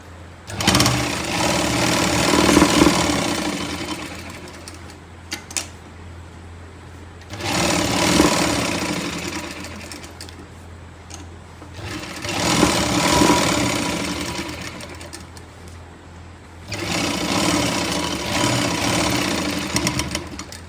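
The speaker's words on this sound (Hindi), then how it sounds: "हमें पूरी इलास्टिक के ऊपर सिलाई लगानी है, लेकिन हमने इसको खींच के रखना है।" A sewing machine stitches over stretched elastic at the waist of palazzo pants, running in four long, loud, close bursts of rapid needle rattle with brief pauses between them.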